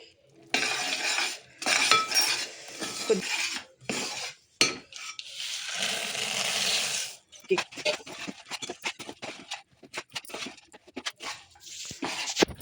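A peanut chikki mixture being stirred in a pan, the spoon clattering and scraping against metal in irregular bursts, up close, with someone talking in between.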